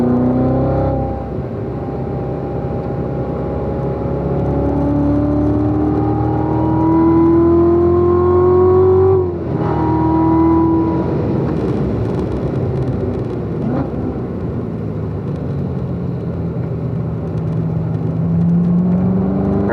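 A car engine revs up and accelerates around a race track, loud and continuous, with rising pitch as it pulls through gear changes, a brief dip midway before climbing again.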